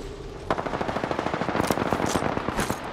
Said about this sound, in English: Opening fire. Shot fired.